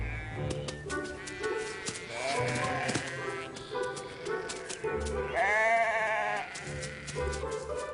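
Sheep bleat in an orchard near Couvin, several calls rising among birdsong and rustling outdoor background at moderate distance, with one clear wavering bleat standing out near the end.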